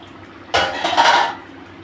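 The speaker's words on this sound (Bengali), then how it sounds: "আমি এবার ঢাকনাটা খুলে দিচ্ছি" A lid is lifted off a cooking pot of fish curry with green tomatoes, giving one short clattering, rushing burst of metal and steam that lasts under a second before fading back to quiet.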